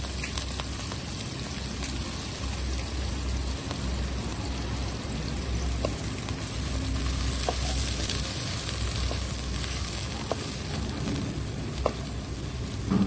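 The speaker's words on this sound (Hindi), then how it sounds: "प्याज को हल्का सा फ्राई करेंगे।" Steady, crackling sizzle of onions frying in a pan, continuous and close, with a few soft clicks and no talking.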